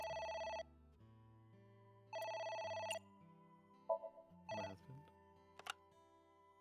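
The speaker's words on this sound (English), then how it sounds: "It's the phone." A telephone rings in two clear bursts of electronic ringing, the second cut short, followed by quieter clattering and shifting sounds; no one speaks.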